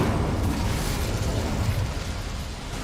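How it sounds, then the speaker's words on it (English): The Incendio fire spell in Hogwarts Legacy lights flames with a loud, sustained roaring whoosh, a close burst of fire that holds steady and only slightly fades. "Incendio should be enough to light these flames."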